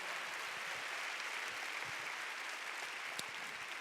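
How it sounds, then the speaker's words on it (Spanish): Church congregation applauding loudly and steadily at a Cash Luna service, a dense continuous wash of clapping that fills the whole stretch with no talk over it. "Dale un fuerte aplauso a la palabra del Señor."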